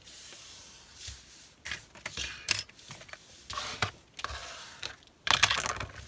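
A used paper window envelope is folded and creased by hand, giving scattered crisp crackles and rustles at close range, quiet between sharper handling noises.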